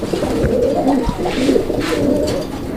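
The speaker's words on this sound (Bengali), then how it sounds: "এখানে চমৎকার আরও এক জোড়া কবুতরের কালেকশন রয়েছে" Pigeons at a market stall coo in close, continuous low rolling calls that overlap without a pause.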